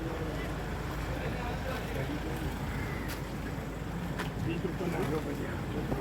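A boat carries a group through the Kerala backwaters, a steady low engine and water rumble running throughout at moderate distance, with faint crow caws and wind and occasional voices in the background.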